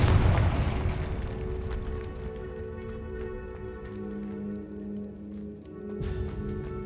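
A Confringo blasting curse explodes in the Hogwarts Legacy video game, a loud booming burst at the start that rolls into a sustained rumbling tail beneath droning game music, with a second sharp hit near the end.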